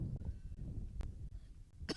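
A single short cough stands out near the end, following a few faint throat sounds against quiet background noise, during a football match commentary between Castletown and Malew.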